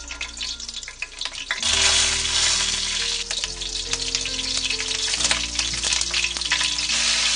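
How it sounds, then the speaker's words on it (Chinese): Ginger slices, star anise, Sichuan pepper and fennel seeds frying in oil, a loud dense crackling sizzle that jumps up after a quieter start and stays strong, with occasional scraping of a utensil. "锅里倒适量的油，把刚才那些调料放入锅里炒香"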